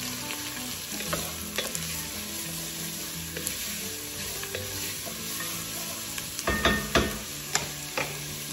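Roughly chopped garlic sautés with onion in a pan, a continuous close sizzle broken by scraping stirs and a cluster of louder clatters near the end, with no talking.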